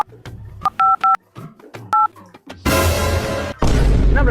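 Mobile phone dialing tones: several short, loud two-tone beeps in an irregular sequence, each about a tenth of a second, followed by loud broadband noise.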